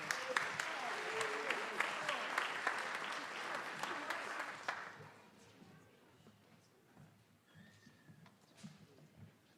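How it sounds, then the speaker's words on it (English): An audience at a school spring instrumental concert applauds steadily for about five seconds, then the clapping fades out, leaving a quiet room with faint scattered noises. "It's okay, you clap."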